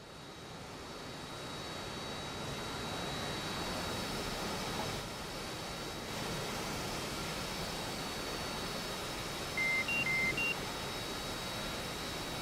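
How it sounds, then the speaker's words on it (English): Steady propeller or jet engine drone from an aircraft in the DCS flight simulator game, a continuous broadband hum with a few short electronic cockpit beeps near the end; no talking. "You should be able to hear my plane. Just running nicely."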